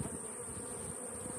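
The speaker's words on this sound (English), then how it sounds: "let these bees continue and finish robbing out what's left of this while it's at a distance" Honey bees robbing out what is left of a failed hive split, a dense steady buzzing drone of many insects close by, continuous with no voices.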